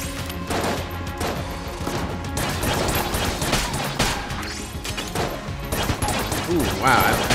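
Busy gunshots from Enter the Gungeon fire in a steady stream, with cartoonish pops and crashes layered over game music, fairly loud and continuous throughout.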